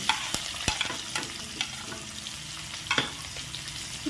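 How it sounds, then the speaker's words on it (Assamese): Onion, cumin, mustard seeds and curry leaves fry in hot oil with a continuous sizzle, punctuated by sharp clicks and scrapes of a spoon stirring against the pan, close up. "এতিয়া সকলোখিনি মই ৰঙচুৱা পৰলৈকে ভাজিম।"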